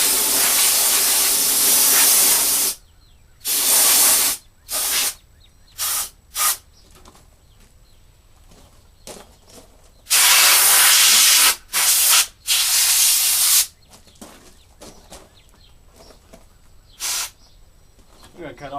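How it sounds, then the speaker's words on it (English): An air compressor's nozzle blasting air through a mid-tower computer case during cleaning. It comes as loud, close hissing bursts, some long and some short, separated by quieter gaps with faint background sound. "Now watch, I'll probably jump when this compressor comes on."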